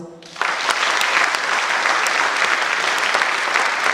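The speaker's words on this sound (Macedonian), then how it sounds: "За нашите учесници дајте голем аплауз." Loud, sustained applause from a crowd begins after a brief moment and continues steadily, dense clapping filling the room.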